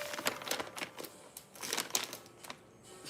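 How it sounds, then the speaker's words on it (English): Keys clatter in quick irregular bursts of sharp taps, close and fairly quiet, with brief pauses between flurries, like fast typing on a keyboard. "you can hear the typing"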